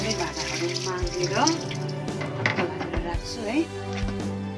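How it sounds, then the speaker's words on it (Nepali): Kitchen dishes are scrubbed and rinsed under a running tap, giving a steady stream of water with clinks and scraping of utensils while someone talks over it. "सबै भाँडाहरू माझेर"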